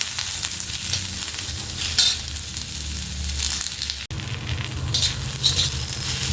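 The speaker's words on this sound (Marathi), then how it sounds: "एक सारखा कांदा भाजून घेतोय" Onions frying in oil in a pan for a village-style chicken masala, a steady close sizzle and crackle running throughout with small spits and pops.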